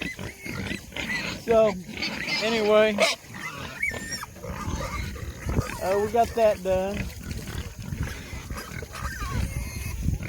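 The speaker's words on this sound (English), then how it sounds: "as you can hear, I'm out at the pig pen. They all think they're starving to death." Hungry pigs in an outdoor pig pen on a cool morning squeal and grunt in repeated bursts close by, while someone talks over them.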